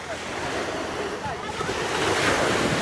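Continuous roar of waves breaking on a Boracay beach shore, swelling slightly louder toward the end, with wind rushing across the microphone.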